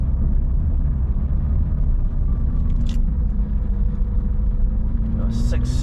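Sports cars, including a McLaren 600LT, drive in convoy near a castle in the Scottish Borders, a steady low road and engine rumble droning close and unbroken.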